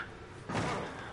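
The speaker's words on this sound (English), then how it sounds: "How can you break the door?" A door being broken in a video game, one dull, muffled thud with a short slamming crunch that fades quickly.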